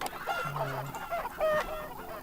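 Chickens cluck in the farming game Farm Manager 2021: a few short, soft clucks and squawks in quick succession, fairly quiet, with no talking.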